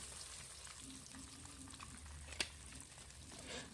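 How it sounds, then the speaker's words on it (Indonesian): Crispy catfish frying in a pan of hot oil gives a steady, dense sizzle and crackle, with one sharp pop partway through, and no voices. "saya akan melanjutkan menggorengnya ya teman-teman ya"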